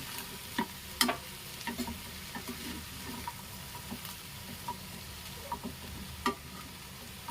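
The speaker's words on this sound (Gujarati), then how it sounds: "બધું આપણે સરસ મજાનું મિક્સ કરી લઈશું" Poha with potatoes and sev is stirred in a pan, a soft, low sizzle broken by scattered sharp clicks and scrapes from the spoon at irregular intervals.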